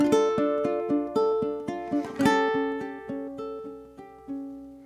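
Ukulele fingerpicking bars 7 and 8 of Giuliani's Allegro, a classical piece: plucked notes in a steady rhythmic pattern, close and clear, gradually softening toward the end as the phrase decrescendos.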